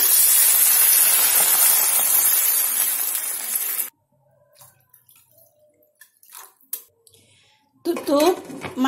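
Water is added to a hot pan of garlic oil while cooking kimlo soup, giving a loud, hissing sizzle for several seconds, then it goes quiet before a voice briefly speaks.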